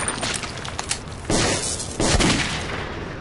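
Gunfire in the video game Metro 2033, with bursts of shots crackling through a noisy underground scene and two louder blasts landing near the end, close and harsh.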